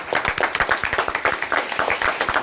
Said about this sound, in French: Messieurs, dames, un tonnerre d'applaudissements pour Nathan Amram.